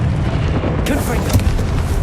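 A Confringo explosion spell in Hogwarts Legacy bursts with a heavy boom, followed by a crackling, rumbling blast that fills the short moment.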